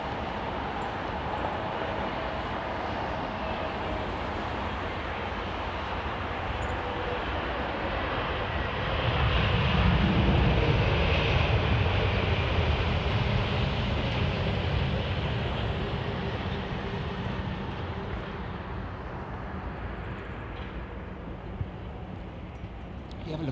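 A jet airliner on approach to London Heathrow Airport roars steadily overhead and swells to a loud peak midway before fading back into a broad rumble.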